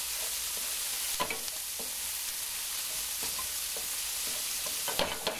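Meat and vegetables fry and caramelize in a pan, browning toward burnt fond, with a steady close sizzle and occasional stirring scrapes and clicks, no talking.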